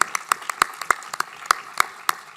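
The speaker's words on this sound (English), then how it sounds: "I think they deserve a better applause." Sparse clapping from a quiz audience for the runners-up at a campus quiz zonal final: a dozen or so sharp, separate claps in an uneven rhythm, close and distinct rather than a full crowd ovation.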